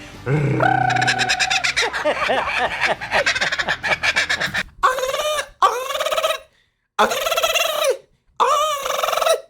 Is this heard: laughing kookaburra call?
yes